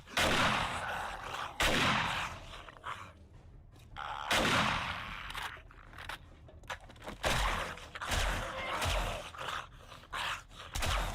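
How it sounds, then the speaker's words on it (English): Shotgun blasts and pistol shots in the zombie survival game 7 Days to Die, loud separate reports spaced irregularly across the stretch, mixed with zombie groans and quicker pistol pops toward the end. "I was reloading my shotgun, and that janitor was going to mess up my day. So I switched to my pistol"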